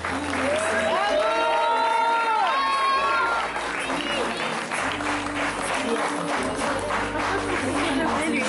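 Steady applause from an audience at a wedding fair as a model steps forward, with music playing over the first few seconds and a voice briefly heard, clapping continuing evenly throughout.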